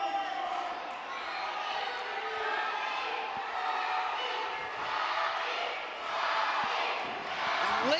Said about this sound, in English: Listen to this crowd fully behind their hero, the redneck kid, Robbie Collins.